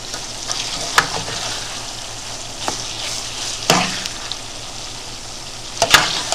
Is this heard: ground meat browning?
yes